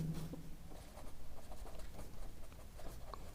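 A pen scratches faintly on paper while working through a math problem: soft, quiet strokes in an uneven patter, close but low in level, with no talk.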